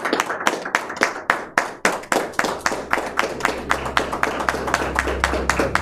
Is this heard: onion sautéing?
no